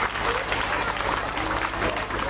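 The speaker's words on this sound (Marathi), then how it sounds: "जोरदार टाळ्या वाजवूया आपण." An audience applauds for Chhatrapati Shivaji Maharaj at a Shiv Jayanti village gathering, with dense, steady clapping from a crowd that fills the whole moment at strong volume.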